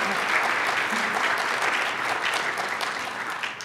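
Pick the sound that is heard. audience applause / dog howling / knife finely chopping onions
audience applause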